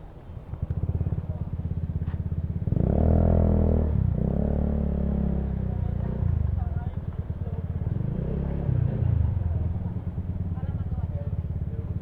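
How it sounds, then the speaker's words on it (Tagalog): A motorcycle engine rumbles steadily at close range as the bike is ridden slowly into an indoor space at a licensing office, with people talking over it. "Pasok ko ng motor niyo rito, sir."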